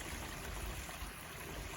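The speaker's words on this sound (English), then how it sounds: "Show the waterfall. It's so nice." Water from a garden waterfall pours and splashes in a steady, dense rush that fills the whole short stretch with no breaks and no voices.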